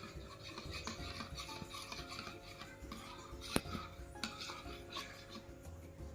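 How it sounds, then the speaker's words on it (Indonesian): Quiet scraping and rubbing of a utensil stirring a chemical solution mixed with water inside a cup, continuous stirring with one sharper clink partway through. "Dan diaduk hingga homogen."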